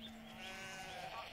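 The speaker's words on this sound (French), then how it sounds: "Les cris matinaux des moutons viennent réveiller les magots." A sheep bleats in the morning in the Middle Atlas mountains of Morocco, one sustained wavering bleat, close and clear over a soft outdoor background.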